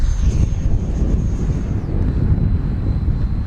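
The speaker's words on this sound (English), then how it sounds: "Landing gear's coming down. We're gonna bring it in, Steve." Steady whooshing roar of an E-flite F-16 70mm electric ducted-fan RC jet flying overhead, loud and continuous with a sustained high whine that dips slightly as it passes, outdoors with wind buffeting.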